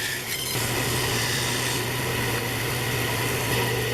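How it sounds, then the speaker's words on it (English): A bandsaw cuts a vase shape from a wood block, a continuous steady motor hum with a dense rasping buzz of blade through wood, close and constant throughout. "at the trusty bandsaw, I just cut that shape out"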